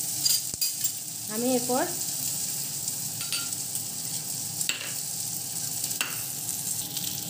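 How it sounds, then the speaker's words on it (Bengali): Chopped onion fries in hot oil with spice tempering for a yardlong bean and eggplant curry, giving a steady close sizzle with stirring scrapes and occasional utensil taps. A voice speaks briefly over it. "ওই ফোড়নের মধ্যে আমি পেঁয়াজটা দিয়ে দিচ্ছি।"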